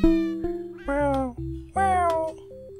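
Several meows from a cartoonish cat in the puzzle game Hidden Paws, three drawn-out clear calls in close succession, near and loud, with no talking over them.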